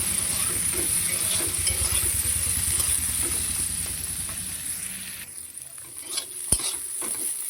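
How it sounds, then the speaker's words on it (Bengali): Bitter gourd fries in a pan with a loud sizzle and rapid rhythmic stirring scrapes that fade after about five seconds into a quieter hiss, followed by a single sharp clink. "আমি এখন সবজিটা বসিয়ে দেবো, উচ্ছেটা আগে ভেজে নেবো।"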